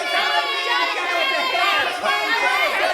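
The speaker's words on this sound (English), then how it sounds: "Start cheering now." Children cheer and shout together in a crowd at a church service, a dense, continuous wave of high-pitched excited voices without a break.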